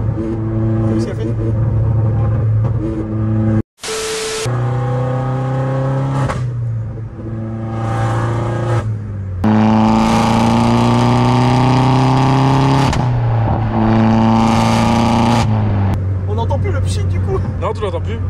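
An Opel Corsa D OPC with a full exhaust revs loudly and repeatedly, its engine note rising and falling in sustained bursts with a brief cut near the start, while voices chatter over the roar.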